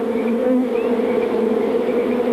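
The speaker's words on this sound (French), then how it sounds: "Oh, une abeille ouvrière." Cartoon worker bee buzzing steadily and loudly, a close, continuous drone with a slight wavering pitch and no talk over it.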